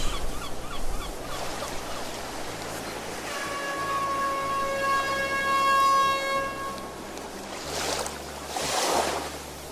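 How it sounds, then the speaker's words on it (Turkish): A large ferry's horn sounds as a long, loud, steady tonal whistle over the roar of ocean waves and surf, holding for several seconds before the sea noise swells again. "Koca vapur düdüğünün yaydığı umut dolu sesle dalgaların arasına hızla ilerlemiş."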